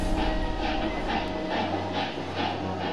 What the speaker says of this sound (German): Hier fährt die Metro am Bahnhof Gare de l'Est ein.